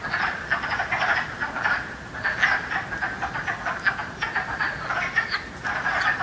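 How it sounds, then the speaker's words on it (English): Wood frogs chorusing in a forest vernal pool, a dense, steady mass of clucking, duck-like croaks pulsing continuously at moderate volume with no voices. "in the vernal pools of the forest, you hear the wood frogs"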